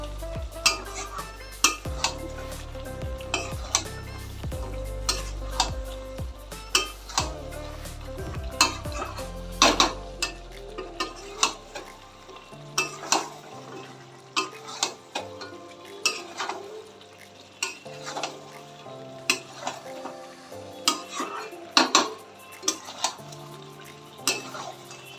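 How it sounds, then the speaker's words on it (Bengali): Chicken being stirred in a pan over a high flame, with repeated scraping and clinking of a utensil against metal in an uneven rhythm, a low rumble early on, close and moderately loud, no talking. "এবার আমি এটা ভালোভাবে নাড়াতে থাকবো। এই সময় ফ্লেমটা হাই রাখবো।"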